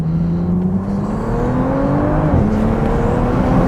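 Bentley Bacalar with a W12 engine lapping a track, with a loud, steady engine drone heard from inside the car and a rising and falling pitch as the car accelerates and shifts, with no talk.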